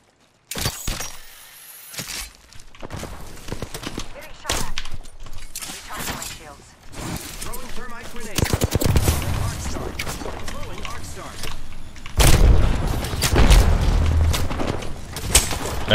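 Gunfire in Apex Legends, with repeated sharp bursts and cracks spread unevenly through a busy fight and a player talking over the shots.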